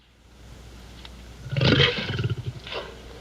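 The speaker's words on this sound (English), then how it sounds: "if they recorded an actual lion" A lion roars in a 1961 Twilight Zone episode, The Jungle: one deep, close roar that swells after a quiet start, then trails off in rumbling grunts, with no talk.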